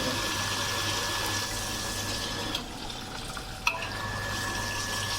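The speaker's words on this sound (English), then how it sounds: "So let's make a testing. Okay, open the mixed water." A kitchen faucet runs mixed water in a steady rushing stream, close and continuous, with a brief dip and a small clunk near the end.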